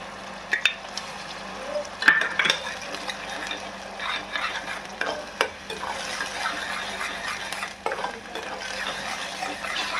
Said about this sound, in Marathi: याच्यामध्येच मी एक टमाटरची प्युरी बनवून घेतलेली आहे, ते घालून घेते